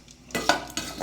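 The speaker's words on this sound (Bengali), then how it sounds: "পাতিলে চাল দিয়ে দিচ্ছি। চাল ডাল ধুয়ে রাখা এটা দিয়ে দিচ্ছি।" Washed rice and lentils go into a cooking pot: a few short rattling, scraping clatters of grains and utensil against the pot, close and moderately loud, with brief quiet gaps between.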